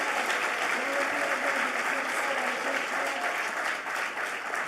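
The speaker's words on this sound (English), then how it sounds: "Please keep the applause going for yourselves on this glorious day" Audience at a Colorado State University MLK Day 2023 event applauding, a dense, sustained wash of clapping from a large crowd that holds steady throughout.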